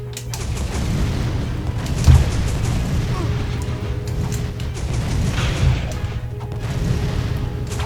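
Enemy gunfire and blasts in the Ratchet & Clank 2 video game, a loud, steady barrage with heavier booming hits at intervals under continuous battle noise.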